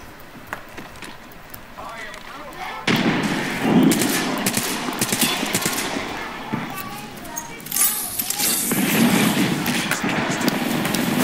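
Gunfire in Apex Legends, bursts of shots over dense game noise and a low rumble, with a voice talking through the action.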